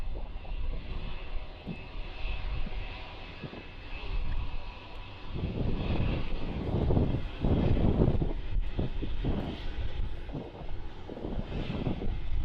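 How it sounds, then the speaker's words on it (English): A Lufthansa Airbus A321 airliner roars at Stockholm Arlanda Airport, a steady loud engine rumble that swells and surges through the middle, with some wind buffeting the microphone and no speech. "Getting nice and close to that Lufthansa A321."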